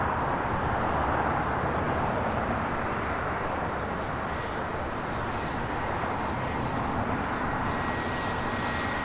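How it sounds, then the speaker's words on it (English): A Challenger 350 business jet on arrival at LAX from San Diego Brown Field Municipal Airport, its engine roar a steady, broad rumble held at one level for the whole stretch, with no voices. "Challenger 350 coming in from San Diego Brownfield Municipal Airport."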